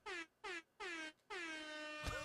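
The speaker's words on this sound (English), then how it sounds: "I got to give me a better air horn." An air horn blares in three short, evenly spaced blasts followed by one longer sustained blast, each with a falling pitch, loud and alone with no talking.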